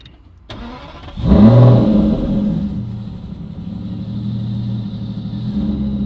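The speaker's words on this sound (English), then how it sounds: "So if you start it up, have a quick listen." An Aston Martin engine starts with a sharp burst and settles into a loud, deep idle, its exhaust in full loud mode rumbling steadily close by.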